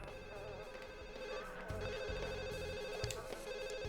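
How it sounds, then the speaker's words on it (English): A telephone rings in The Sims on PS2, a steady electronic ring over game music, moderately loud and alone without talk. "Answer the phone"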